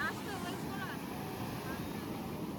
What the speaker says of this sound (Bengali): জল এরকম মাঝে মাঝে এসে আছড়ে পড়ছে